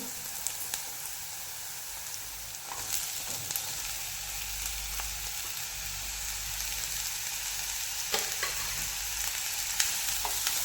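Chopped ridge gourd frying over a medium flame while it is stirred in the pan, a continuous close sizzle broken by repeated scraping and clinking strokes of the spoon.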